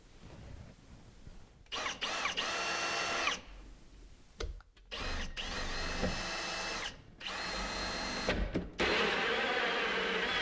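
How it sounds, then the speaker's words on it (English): A power drill fitted with a hole saw cuts through kitchen cabinet panels in several bursts, each whirring run starting and stopping with brief pauses between, close and fairly loud. "So I'm going to drill those with cup saws"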